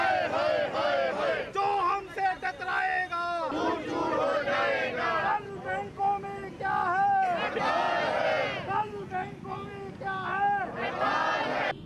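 Bank employees at a rally chant slogans in unison, a loud crowd shouting rhythmic call-and-response phrases that continue without pause.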